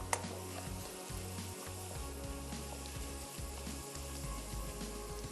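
Onions sizzle steadily in hot oil on a stovetop with whole red chilies and fenugreek seeds, a continuous close crackling hiss with scattered pops and no talk.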